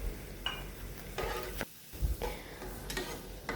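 Chicken pieces seasoned with salt and pepper fry in a pan, a hiss broken by scraping strokes and soft clinks as they are stirred, with a brief quiet pause midway.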